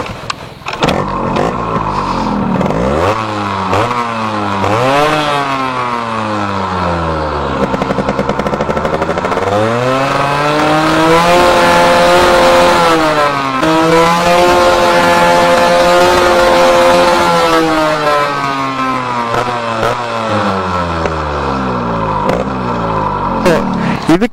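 A Yamaha RX100 motorcycle fitted with an RPM meter revs repeatedly, its two-stroke engine note climbing and falling in loud, close sweeps before settling back toward idle.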